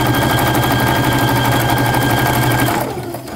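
A sewing machine runs steadily as it stitches a back stitch on a fabric bag, a loud, continuous mechanical whir that stops abruptly near the end.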